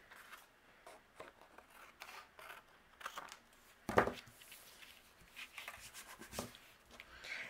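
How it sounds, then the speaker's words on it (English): Scissors trimming leftover timber cardstock for a handmade card, a run of faint, close snipping and paper rustles with one sharper cut in the middle, heard alone in a quiet room. "any leftover, I'll just trim off with my scissors"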